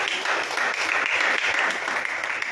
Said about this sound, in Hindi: बजाओ तालियां यीशु के नाम पर।